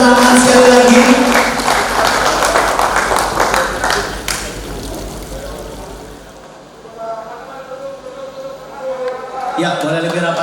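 An audience at a symbolic handover of internet-access aid claps loudly for several seconds, the applause fading out midway before a voice speaks over quieter room sound.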